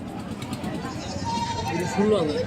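A goat bleats in short wavering cries near the end, over a steady murmur of background chatter and ambient noise at a goat market.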